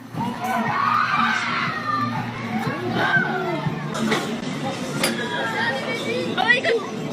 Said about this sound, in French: ils sont en train de crier, les gamins